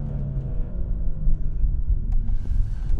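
A Dinan S3-tuned BMW M235i with about 440 hp rumbles through a series of downshifts, its low engine note steady and close from inside the car, with no talking.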